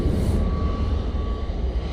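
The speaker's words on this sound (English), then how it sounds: "Jet2 321 Neo in front of us in the .com livery, going off to Paphos" A Jet2 Airbus A321neo jet airliner at Manchester Airport gives off a loud, steady low engine roar with a faint whine above it, continuous and fairly close, with no talking.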